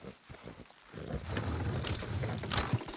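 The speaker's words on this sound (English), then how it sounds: "Horses will pull it clean down." Horses in Red Dead Redemption 2 strain to pull a structure down, giving a steady, dense rumble of hooves and creaking load that swells after a quiet opening and holds loud to the end, with no talk.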